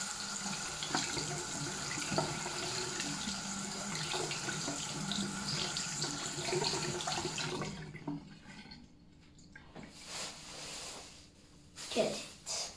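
Tap water runs steadily from a faucet during hand washing, a continuous hiss for most of the stretch before it stops, followed by a few faint handling noises and brief sounds near the end.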